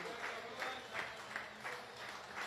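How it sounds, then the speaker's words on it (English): Fans and teammates applaud at an over-50s cricket match, a faint, distant patter of clapping with a few rhythmic swells over a quiet crowd. "Some of high fives and applauds from the fans and the teammates"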